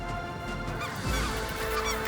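A flock of snow geese honking in flight over a waterfowl hunt in Saskatchewan, many overlapping calls blending into a steady, fairly distant chorus that continues throughout.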